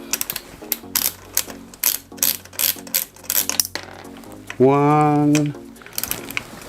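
Screws being undone on an airsoft minigun, a quick series of close mechanical ratcheting clicks, followed by a brief sustained whirring burst near the end, with a voice briefly speaking.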